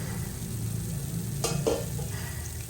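Paddu batter cooking in a paddu pan gives a low steady sizzle throughout, with a couple of brief scraping or stirring touches near the middle; no one speaks.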